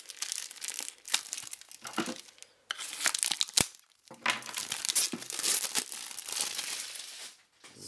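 Plastic film crinkles and tears as it is pulled off a limited LED CD fanbox, with close, loud crackling bursts in uneven spurts and short pauses.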